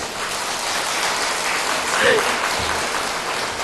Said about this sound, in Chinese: 讲道之前还可以大家拍手掌声欢迎的